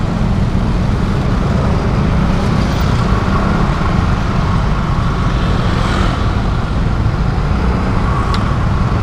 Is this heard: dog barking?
no